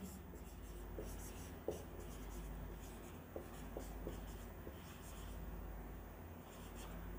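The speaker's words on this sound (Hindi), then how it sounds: "एक बहुत बड़ी संख्या लिख लेते हैं" A pen writing out a long number by hand on paper, steady scratching strokes with a few sharper taps, continuous and close, during a maths lesson on divisibility tricks.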